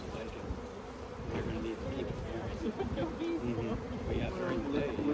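Dense, steady buzzing of many honeybees close by at a hive being split and inspected, a continuous droning hum with faint murmurs of voices underneath.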